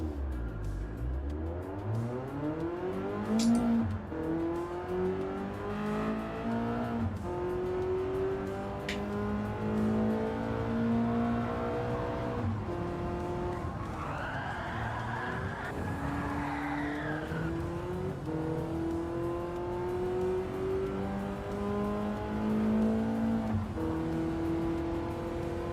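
Ferrari race car engine in Gran Turismo 7 pulling through repeated upshifts, the pitch climbing in each gear. A tire squeal breaks in partway, all continuous and loud with no talking.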